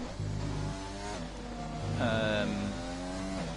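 Honda-powered Formula 1 car engine in a racing game at Belgium, revving high with quick upshifts and pitch drops, loud and close, brief surges through about three and a half seconds with no talking over it.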